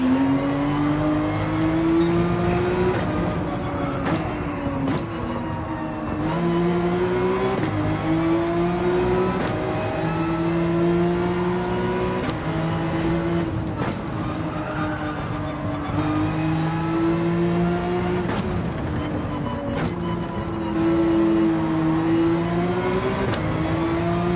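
Porsche 911 race car engine in Gran Turismo 7 at the Deep Forest circuit, loud and close, revving up through gear after gear with repeated shifts and brief lifts, with no talking.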